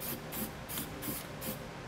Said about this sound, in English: we'll spray paint around the edge of the hole that we enlarged.